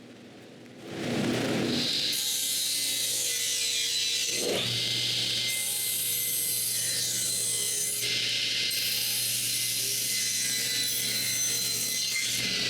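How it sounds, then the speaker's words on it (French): A table saw spins up and cuts wooden pieces, a loud continuous whine and rasp that holds steady for several seconds after a brief start. "c'est le temps d'aller au banc de scie"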